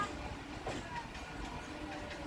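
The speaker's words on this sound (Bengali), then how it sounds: "লোকাল ট্রেনের ওপাশ থেকে ইস্ট ওয়েস্ট মেট্রো ঢুকছে দমদম মেট্রো স্টেশনে" An East-West Metro train pulls into Dum Dum metro station, a steady low rumble of rolling wheels and motors beside the local train line, with voices in the background.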